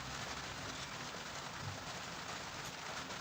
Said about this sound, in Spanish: hoy toca un día de lluvia. Lluvia de primavera.